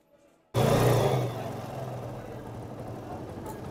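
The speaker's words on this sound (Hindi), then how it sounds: "चलो बाइक को स्टार्ट करो।" A freshly rebuilt TVS Apache RTR motorcycle engine fires up abruptly after near silence, with a loud initial burst that settles into a steady, close idle.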